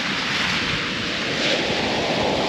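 Ocean waves wash steadily at the water's edge of a cove, a continuous loud hiss of surf with some wind buffeting the microphone and no voices.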